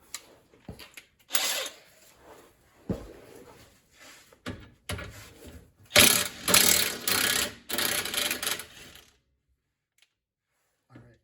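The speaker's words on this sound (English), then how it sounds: "All right, I'm going to take off that bolt." A ratchet socket wrench clicks in short bursts while loosening a bolt on a Toyota Prius during a rear shock extender install, close and uneven, with pauses and metallic clatter between strokes before falling quiet.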